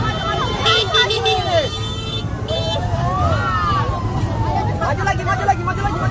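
A fire brigade truck pulls up at the scene of a burning Toyota Kijang in Lubuklinggau, its horn tooting and a siren wailing in rising and falling sweeps among steady traffic, with onlookers chattering throughout.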